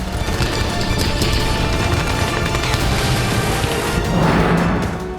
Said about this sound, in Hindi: एक दूसरे पर गोलीबारी कर रहे हैं।